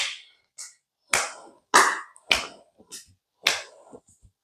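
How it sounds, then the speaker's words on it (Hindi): Loud hand claps during an arm exercise, about six sharp separate claps in an irregular rhythm, close and alone with no talk. "दोनों साइड से ताली बजाइए, जोर से बजाइए।"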